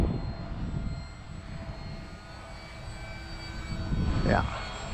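A Durafly Tundra V2 RC airplane drones overhead with a steady electric motor whine at moderate distance. The pitch rises and falls sharply near the end as the plane passes by, over low wind and outdoor rumble.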